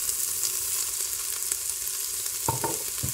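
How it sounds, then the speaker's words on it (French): Risotto rice is stirred in hot fat in a Cookeo pot, giving a steady bright frying hiss with a few brief scraping knocks near the end. "Et je mélange bien"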